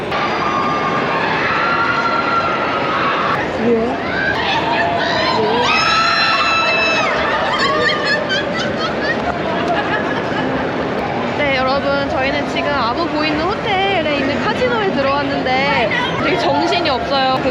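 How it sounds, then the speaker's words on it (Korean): A noisy Las Vegas casino crowd shouting and cheering over dense babble, with electronic chimes and jingles from gaming machines ringing through the din. "게임이 잘 됐는지 막 소리 지르고 난리도 아닌데"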